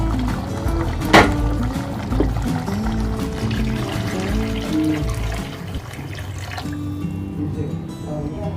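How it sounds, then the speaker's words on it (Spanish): Water pours into a cooking pot in which a guajillo chile and mushroom dish is being made. A continuous splashing and trickling runs under background music, with one sharp clink near the start. "aquí ya le agregué el agua, más o menos yo le agregué como 600 mililitros de agua"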